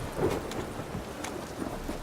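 Steady rain with a low rumble of thunder in the video game The Witcher 3, a dense, even wash of noise that holds for the full two seconds with no talking.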